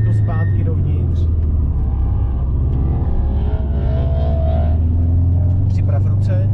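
Car accelerating around a driving circuit, a loud close engine drone with rising and falling pitch through gear changes, someone talking over it throughout.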